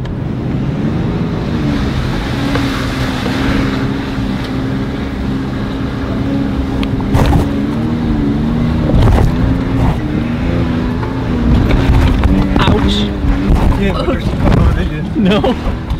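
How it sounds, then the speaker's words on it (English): An overland off-road vehicle grinds up a steep hill climb on a trail in southern West Virginia, its engine droning steadily with surges of load and rattling, while people talk over it. "we thought we'd take you for a ride and to come up our last hill climb here"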